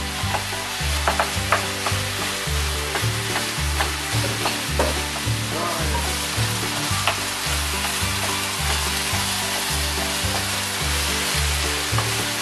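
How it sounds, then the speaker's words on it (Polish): Meat for enchiladas sizzles loudly in a frying pan, a continuous close crackle with a pulsing rhythm as it is stirred. No one speaks. "mięso praktycznie mamy już zrobione, usmażone"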